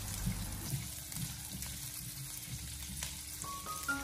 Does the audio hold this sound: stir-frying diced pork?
yes